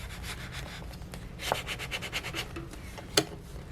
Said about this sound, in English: I might actually have to use that scraper tool just to put a lot of pressure on it